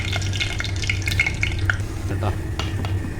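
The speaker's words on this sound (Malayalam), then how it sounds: "കടുക് പൊട്ടാൻ തുടങ്ങി കേട്ടോ" Mustard seeds splutter in hot coconut oil, with scattered small pops and crackles over a steady frying hiss, close and fairly loud.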